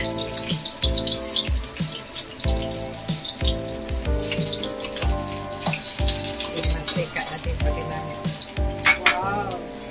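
Broccoli sautéing in a pan, a loud sizzle mixed with running water and clattering, under background music.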